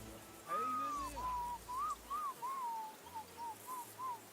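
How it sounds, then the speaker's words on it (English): A character in Kingdom Come: Deliverance II whistles a clear, wavering tune: a long drawn note, then a series of short rising and falling phrases, fairly close and alone without talk. "Your whistling is getting on my fucking nerves the whole way."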